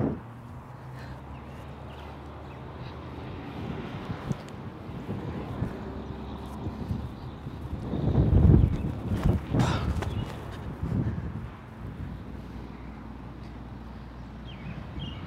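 Gusty headwind buffets the microphone outdoors during a disc golf round, a steady low rumble that swells into a louder burst of blustering around the middle before easing back.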